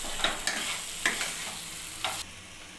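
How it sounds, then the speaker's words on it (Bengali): Fried shrimp tossed with spices in a frying pan, giving a steady soft sizzle broken by four scraping stirs of a spatula against the pan, close and unaccompanied by voices. "চিংড়ি মাছটা মশলার সাথে ভালোভাবে নাড়িয়ে নেব"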